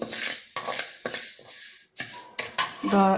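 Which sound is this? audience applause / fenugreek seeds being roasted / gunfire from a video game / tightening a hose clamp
fenugreek seeds being roasted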